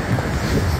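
Winter wind blows outdoors near Niagara Falls, buffeting the microphone with a brief, loud, low rumbling roar and no speech.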